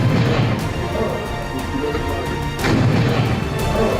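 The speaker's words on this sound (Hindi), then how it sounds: "ग्रेनेड फटने की आवाज आप सुन सकते हैं।" A grenade bursts inside a truck during a gunfight, giving loud, heavy booms and sharp cracks over a dense rumbling roar, with a fresh blast near the end.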